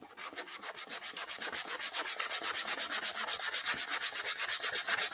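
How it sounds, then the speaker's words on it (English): Hand sanding with 180-grit paper along the grain over dried ivory lacquer on wood gives a rapid, regular back-and-forth rasp, close and steady throughout. "We're just sanding with the grain"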